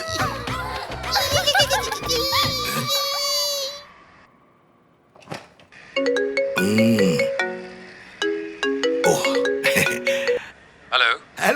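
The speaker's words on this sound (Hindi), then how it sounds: "इतने में आपका फोन आ गया" An incoming call's phone ringtone plays a loud, repeating melodic phrase in the second half, after a stretch of mixed voices, laughter and a child's cries.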